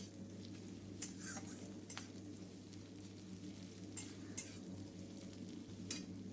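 Chopped onion sizzles in hot oil with nigella seeds and dried red chillies, a quiet steady frying hiss with occasional sharp scrapes and clinks of a spoon stirring the pan.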